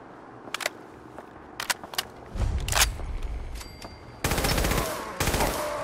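Gunfire in Fallout 4 opens with scattered sharp single shots, then settles into longer rapid automatic bursts that are loud and close, with brief gaps between strings of fire.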